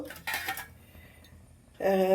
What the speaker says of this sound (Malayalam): ഉണ്ടാക്കാനുള്ള പാത്രം ഞാൻ അടപ്പത്ത് വെച്ചു